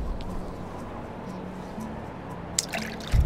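Cold water splashes and trickles as a character washes in the Medieval Dynasty video game during snowy weather. It is a short, soft liquid dribbling that ends in a brief louder splash.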